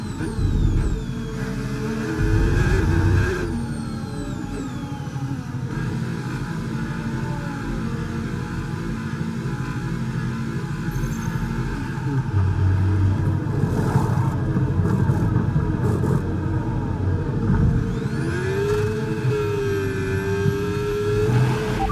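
A Ferrari Formula 1 car in the F1 25 racing game, its high-pitched engine droning steadily and loud throughout, rising and falling in pitch through gear changes and revs with no voices over it.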